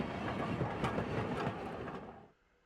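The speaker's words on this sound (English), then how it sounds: "It seemed the train had reached its final stop" Train rolling into its final stop, a steady rumbling clatter of carriages that fades away abruptly near the end, with no voices.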